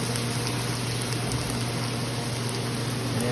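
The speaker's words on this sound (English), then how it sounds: "We'll put some teriyaki in" Teriyaki sauce hitting a hot frying pan, a steady, dense sizzle and bubbling hiss that stays even and close throughout with no pauses or voices.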